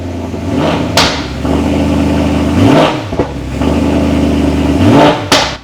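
A stock BMW E92 M3 with a four-litre V8, seven-speed DCT gearbox and a lightly modified exhaust revs up close and loud, its burbling note rising and falling in repeated blips with brief pauses between.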